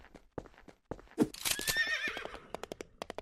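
A horse in the video game Hytale lets out a loud, wavering whinny that rises and falls for about a second, surrounded by sharp clip-clop hoof taps before and after.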